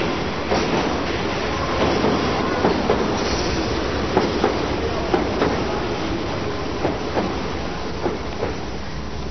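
A London Underground tube train rumbles along steadily, with rattling wheels and occasional clicks over the tracks, loud and continuous throughout.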